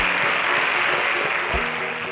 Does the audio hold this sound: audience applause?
yes